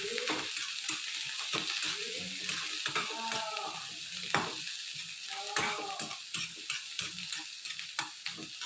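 Green chilies, curry leaves and coriander leaves sautéing in a pan, with steady close sizzling and frying crackle, plus repeated scraping and stirring clicks against the pan and no talk.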